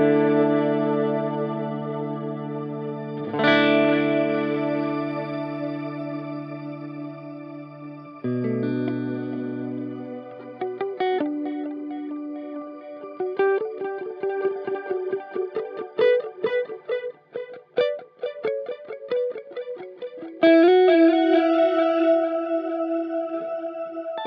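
A Boss DD-200 digital delay pedal on electric guitar: sustained chords ring out, then picked notes repeat as rhythmic echoes that stack into rising harmonies, clear and prominent with no talking.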